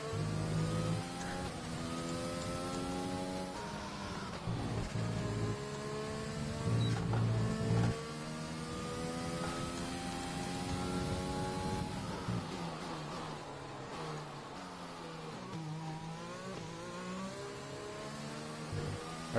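Race car engine in a racing video game lapping a circuit in Spain, a continuous whining high-revving drone that climbs and drops through gear changes, steady and fairly even in level throughout.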